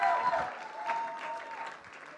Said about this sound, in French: Est-ce qu'on peut applaudir l'équipe de com?